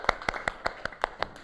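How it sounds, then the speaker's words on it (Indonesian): Students clapping in a classroom, eight sharp, evenly spaced claps in a steady rhythm, close and clear with no talk over them. "Ya kasih tepuk tangan dulu ya, udah benar ya."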